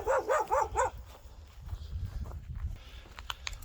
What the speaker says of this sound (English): Fucking dog.